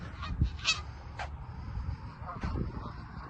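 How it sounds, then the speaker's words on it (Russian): Ducks at a pond sound off in a few short honking quacks, close and distinct, scattered over a few seconds above steady outdoor ambience and low rumble; someone speaks briefly. "Добежала тут до милого местечка с уточками."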